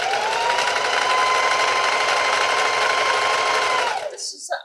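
A sewing machine runs steadily while trimming the bottom hem of a hoodie, a loud close continuous whirring buzz for about four seconds before it stops abruptly, followed by brief handling noise.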